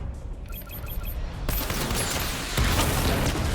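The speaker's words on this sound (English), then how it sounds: "Missile barrage level 2 ready." Missiles fire from the Batmobile in Batman Arkham Knight as a dense, crackling barrage. It starts with a sharp burst, then a second heavier wave of rumbling explosions sustains it, loud and continuous.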